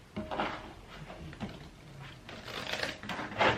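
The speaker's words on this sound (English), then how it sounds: "These cards are ever so stiff still, so it's really hard when I'm cutting them." Stiff new tarot cards being cut and shuffled by hand, giving quiet, close-up papery slaps and riffling bursts in short irregular clusters, with no talking.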